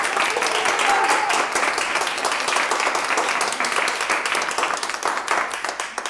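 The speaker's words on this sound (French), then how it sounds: "On applaudit Lucie." An audience at an awards ceremony claps steadily and fairly loudly throughout, a dense continuous patter of applause with no one speaking over it.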